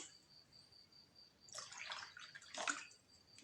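Half a litre of water is poured into a one-litre bottle, a brief close gurgling splash in two bursts over a quiet background with a faint steady whine.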